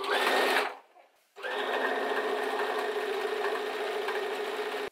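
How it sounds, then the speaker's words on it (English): A sewing machine stitches fabric in a fast, even mechanical whir, runs briefly, stops for a short pause, then starts again and runs steadily. It is close and loud, with no talking. "Put your fabric under the sewing machine. You want to hold your threads and then start sewing."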